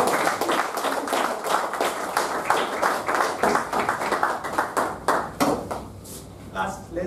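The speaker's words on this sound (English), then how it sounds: "Give him a good round of applause." Audience applause in an education session hall, a dense run of many hands clapping at a steady, lively level that holds throughout before thinning slightly near the end.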